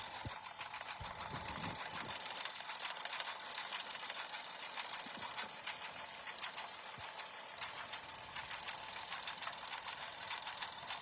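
A home sewing machine stitching a patch design at slow speed, around 400 stitches per minute, running as a continuous close mechanical whir with rapid rhythmic needle clatter and no talking.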